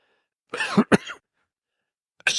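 A couple of harsh coughs close to the mic, then quiet, then another cough starting at the very end.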